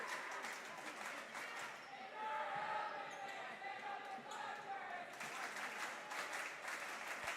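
A high school student section in a school gym at a varsity volleyball match keeps up a rhythmic clapping chant, sustained crowd voices and claps echoing through the hall, quite faint overall.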